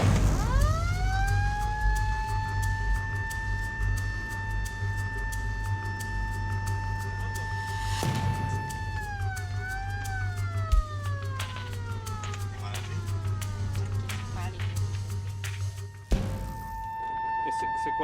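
An ambulance siren wails continuously while driving through Cité Soleil, the largest slum in Port-au-Prince, a loud steady rising-and-falling tone over engine rumble, with the pitch shifting midway and a brief knock near the end.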